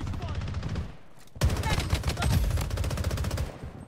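Rapid automatic gunfire in the shooter game Blood Strike, one short burst followed by a brief gap and then a longer, loud, sustained stream of fast shots, with faint voice chat underneath.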